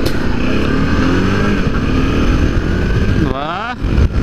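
BMW F650 GS single-cylinder motorcycle on a test ride, engine revving loud and close with rising pitch, then dropping away briefly before picking up again near the end.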